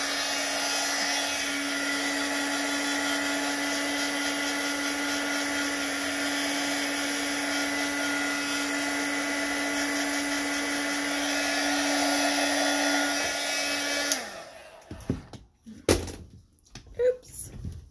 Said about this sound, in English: Not my glue gun, my heat gun.